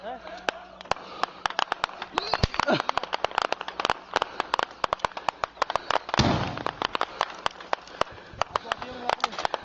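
A bomb blasts in a video game, with a heavy burst near the middle surrounded by rapid sharp crackles and pops, while voices talk underneath.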